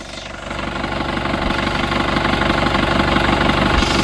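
An Isuzu Panther LS turbo diesel engine idles steadily up close, a loud, even rumble with rhythmic diesel clatter and no voices over it.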